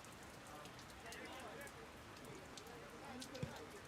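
Rain falls steadily on a rooftop during an outdoor soccer match, a soft, even hiss that lasts the whole time with faint scattered drops and one brief thud near the end.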